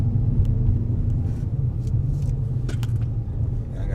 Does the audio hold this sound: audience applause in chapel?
no